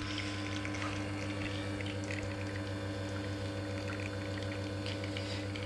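A Rocket R58 V2 espresso machine with an E61 brew head runs its rotary pump while pulling a shot: a steady low hum with continuous faint liquid trickle, unchanging throughout.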